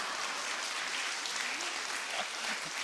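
A church congregation applauds after a bow, a steady wash of many hands clapping together at even volume throughout.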